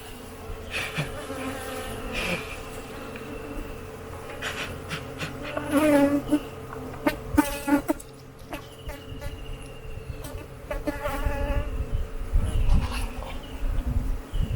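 Dense insect buzzing from many honey bees around hives on a bee farm, a steady drone with individual bees zipping close past at times, no voices.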